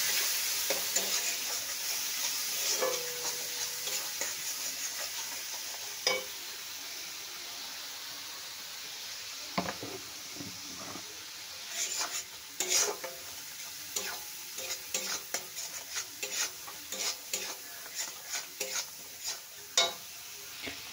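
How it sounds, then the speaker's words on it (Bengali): A spice masala of ground coriander and cumin is fried and stirred in oil. Under a soft, continuous sizzle come irregular scraping and clacking stirs, sparse at first and then thicker and quicker toward the end. "এবারে এটাকে মশলাটাকে কষে নেব"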